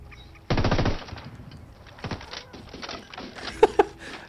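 Gunfire from the video game Ghost Recon Wildlands: a loud dense burst of automatic fire, then scattered softer shots and a couple of sharp cracks near the end.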